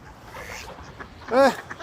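A single short nasal quack rings out nearby over faint outdoor background noise, brief and fairly loud.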